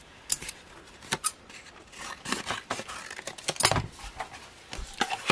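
Scissors cutting craft material to size, a run of short close snips and crinkly paper rustles at a quiet level, irregular bursts with no talk.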